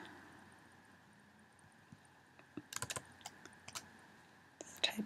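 Quiet computer keyboard typing while searching a library catalog, a scattered burst of soft key clicks in the middle and a few more near the end over low room hiss.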